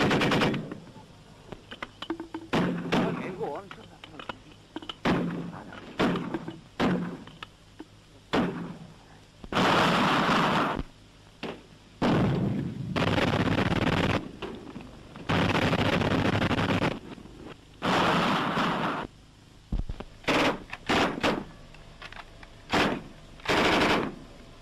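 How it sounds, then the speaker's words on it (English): Machine-gun bursts from a WW2 battle reenactment, loud repeated fusillades of rapid fire in long and short volleys separated by brief pauses, some single heavy shots and thuds between them, with no talk. "the silence will be split by a fusillade of fire"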